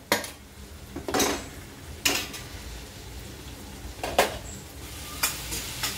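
Metal ladle clanks sharply against the rim of a pan of sabudana khichdi cooking in ghee, five distinct knocks spaced about a second apart over a soft background hiss.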